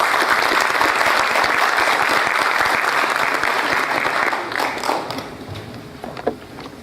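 An audience at an official heraldry ceremony claps in a full, steady round that fades out after about five seconds, leaving a few scattered claps and faint room noise.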